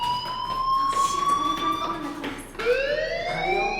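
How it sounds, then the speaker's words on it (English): School fire alarm in the Life is Strange video game, a shrill electronic tone that sweeps gradually and restarts with a rising jump, sounding steadily beneath a person talking. "Hey, do you hear that fire alarm?"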